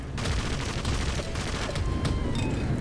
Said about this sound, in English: God, that's grenades.